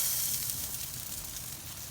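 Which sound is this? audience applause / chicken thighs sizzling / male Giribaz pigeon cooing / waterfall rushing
chicken thighs sizzling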